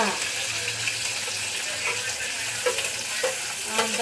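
Onion fries in a pan for masala dosa with a loud, steady close sizzle, broken by a few scraping stir strokes near the end.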